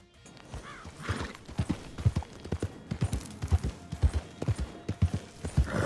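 Horse hooves clip-clop at a steady riding gait in Red Dead Online, a run of sharp, evenly spaced hoofbeats that carries through the whole stretch with no voices, alongside an occasional whinny.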